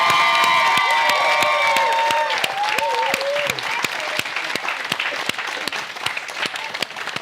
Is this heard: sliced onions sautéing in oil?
no